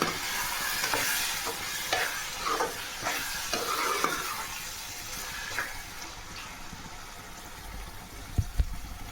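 Gongura prawn curry cooking in a pan, a continuous low sizzle and bubbling with repeated soft stirring scrapes, fairly quiet and close, ending with a couple of sharper knocks; nobody speaks.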